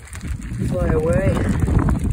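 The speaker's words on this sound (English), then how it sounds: "There's a nice breeze. Damn, that's wind." Wind gusting outdoors and buffeting a microphone, a steady low rumble filling the whole stretch beneath a brief voice.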